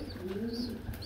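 Pigeons at a market for Grizzle pigeons and their young give a soft, low cooing, faint and close, over a quiet background.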